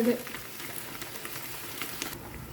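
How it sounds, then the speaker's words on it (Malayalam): Cooked chickpeas and water being stirred in a pan give a brief, steady wet sizzle with soft scraping, close and moderately quiet, with no talking. "വെള്ളവും കൂടി ഒഴിച്ചു ഇതൊന്ന് ഇളക്കി കൊടുക്കാം."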